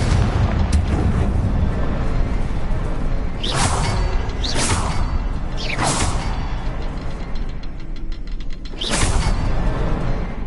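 Fiery Confringo spell blasts in Hogwarts Legacy on PS4, several loud whooshing booms over a dense rumbling game soundscape, with no talk.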